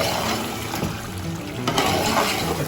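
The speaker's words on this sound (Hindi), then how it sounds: "अब हम इसमें पानी डाल देंगे।" Water pours steadily into a pot of fried chicken being cooked for pulao, a continuous close splashing rush with no voices.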